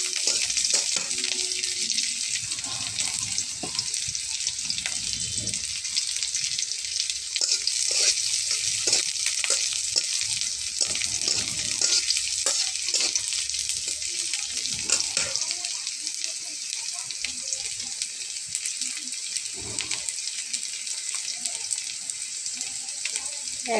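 Garlic frying in oil in a pan, a loud, continuous bright hiss of sizzling that carries steadily throughout with occasional faint stirring knocks.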